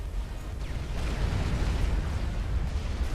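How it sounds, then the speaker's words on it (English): Artillery shells in the real-time strategy game Supreme Commander: Forged Alliance land in a dense, continuous rumble of overlapping explosions, steady and loud throughout without pause. "Artillery just landing all around him"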